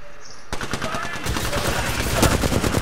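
Rapid automatic gunfire in the battle royale video game Apex Legends bursts in loud and close after a short quiet start, a dense stream of shots continuing to the end, with talk mixed in.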